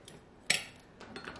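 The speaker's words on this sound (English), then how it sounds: "Oh, that made a nice little plop." Cream of chicken soup drops from its can into a crock pot with one short, close plop, followed by faint kitchen clinks.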